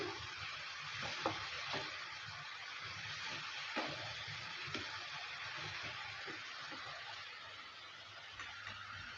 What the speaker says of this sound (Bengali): কাঁচা লঙ্কাটা দেওয়ার পর ভালো করে আবারও নেড়ে চেড়ে নিচ্ছে